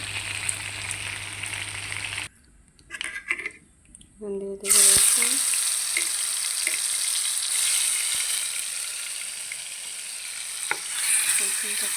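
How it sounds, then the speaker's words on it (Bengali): Chicken pieces frying in oil in a pan for a restaurant-style chicken bhuna, a steady loud sizzle with a short quieter gap of clinks and stirring before the hiss returns and holds to the end. "খুব সুন্দর করে চিকেনটাকে লাল করে ভেজে নিলাম"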